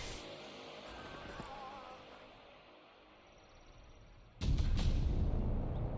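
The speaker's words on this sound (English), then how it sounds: "So it sounds like almost like a Thunderfire cannon type of unit." A heavy, booming blast from a Thunderfire cannon–type artillery unit in a Warhammer Craftworld Aeldari strategy game erupts after a quieter stretch of ambient rumble, sustaining a loud, rolling roar to the end.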